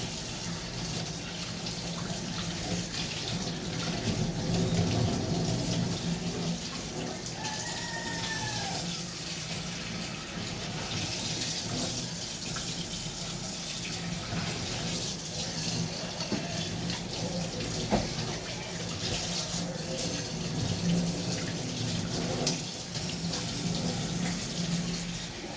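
Tap water runs steadily into a sink while the final plate is washed, a continuous close splashing stream with occasional clinks and shifts in the flow.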